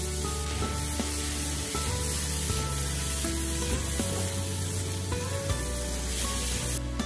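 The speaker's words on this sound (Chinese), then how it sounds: "炒香后再放入辣椒继续翻炒，把辣椒的香味给它炒出来" Chili peppers sizzle in hot oil with fermented black beans and garlic in a wok, a steady loud frying hiss with occasional stirring scrapes and a constant background hum.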